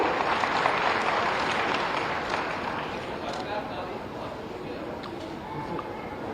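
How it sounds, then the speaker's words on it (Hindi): Loud, sustained crowd applause rolls through a large hall at a state award ceremony for handicraft artisans on Uttar Pradesh Day in Lucknow, a thick continuous roar that slowly eases slightly. "आपकी जोरदार तालियां मंच तक पहुंचे।"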